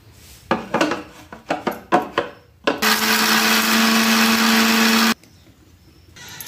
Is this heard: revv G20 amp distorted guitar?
no